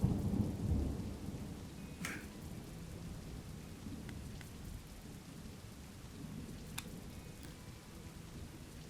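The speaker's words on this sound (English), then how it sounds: "Oh, because it's raining." Rain in a colony-building video game, a steady wash of rainfall with a low thunder rumble at the start and a few faint crackles, with no voices.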